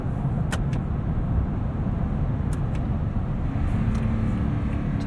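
Cabin view of a 2019 Toyota Tundra SR5 with 5.7 liter V8 cornering, a continuous low engine and road rumble, steady and fairly loud, with faint clicks above.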